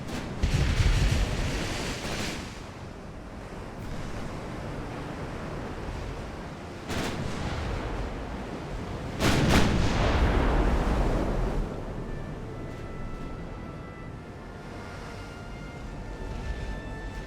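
Naval gunfire in Ultimate Admiral: Dreadnoughts as ships shell an enemy vessel: deep, rumbling booms and explosions in several bursts over a steady roar of sea, loud and close, with no talking.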